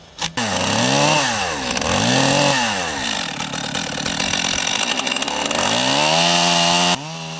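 A chainsaw roars loudly and close, its engine pitch rising and dipping repeatedly as it makes long lengthwise rips down a multi-meter log for a wooden canoe, running almost continuously.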